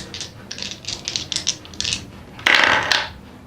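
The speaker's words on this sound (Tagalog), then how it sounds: "Let me roll the dice." Dice rolled and tumbling across a hard surface: a quick clattering burst of small rattles, then a louder final clatter as they come to rest, close and alone.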